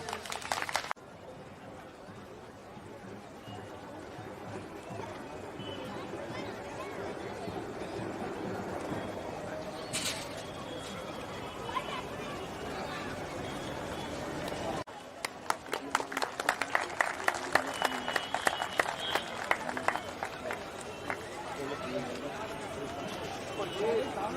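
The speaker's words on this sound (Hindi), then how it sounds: "साथियों उनकी गर्मामयी जो है तालियों से स्वागत किया जाए।" Audience applause welcoming guests at the 125th Ambedkar Jayanti celebration in Bilaspur, Chhattisgarh: a murmuring crowd gives way to a loud, dense burst of many hands clapping that continues to the end.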